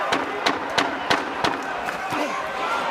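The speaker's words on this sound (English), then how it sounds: "This crowd is loving this title fight already." A boxing crowd at a world title fight, Terence Crawford against Egidijus Kavaliauskas, erupts in bursts of cheering and roars, with sharp repeated spikes of noise rising over a steady arena din.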